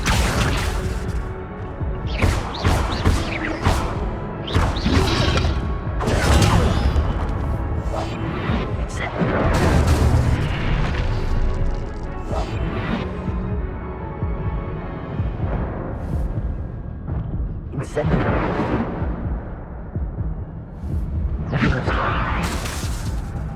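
Hogwarts Legacy spellcasting, Incendio and Accio among others, erupts in repeated loud bursts of crashes, whooshes and impacts over dense game music and effects, with speech mixed in.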